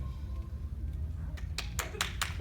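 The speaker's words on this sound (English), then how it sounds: "Claps for honey" Applause from a convention audience at an anime panel, a scattered burst of hand claps coming in after about a second and a half, several loud sharp claps over a low murmuring crowd hubbub.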